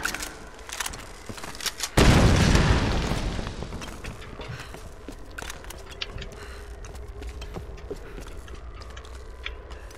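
A loud bomb explosion in Tomb Raider (2013) erupts suddenly with a deep booming blast that decays over a couple of seconds, followed by lingering rumble and scattered debris clatter.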